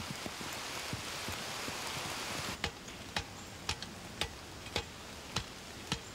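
Rain falls on soldiers dug into mud, a steady dense hiss that thins after a few seconds into sharp, evenly spaced drips ticking about twice a second.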